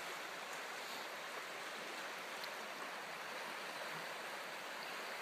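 Floodwater of a swollen creek skims steadily beneath a bridge during spring runoff, a continuous broadband rush of flowing water with no pauses or voices.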